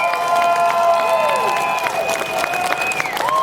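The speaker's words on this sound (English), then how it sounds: "Let's give them a nice round of applause." An audience applauds at a 2019 closing ceremony, a dense clapping wash with a few cheers. Sustained tones from music or feedback run over it, and a voice sounds faintly in the room.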